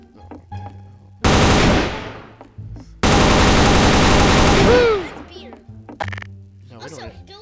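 Automatic gunfire in the video game Garry's Mod, with two loud sustained bursts of rapid shots separated by a short gap, heard up close alongside quieter game sounds and background chatter.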